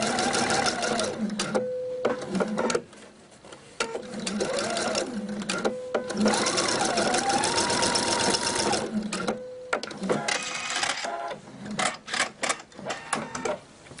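A sewing machine stitching a homemade shopping net bag runs in several loud bursts of rapid mechanical whirring, with short pauses between runs and no talk.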